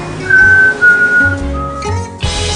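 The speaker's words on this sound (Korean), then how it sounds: "휘파람 소리마저 감미로운 이 남자" A man whistles a smooth, sweet melody close to the microphone, sustained tones gliding between pitches over a couple of seconds, with no talking.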